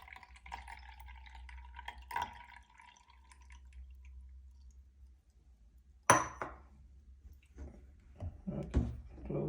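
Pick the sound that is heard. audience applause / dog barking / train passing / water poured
water poured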